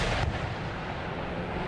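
Ship cannons firing broadsides in Empire Total War naval combat, a loud booming blast with a sustained rumbling roll, close and dense.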